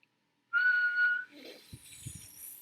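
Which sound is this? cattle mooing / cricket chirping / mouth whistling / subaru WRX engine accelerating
mouth whistling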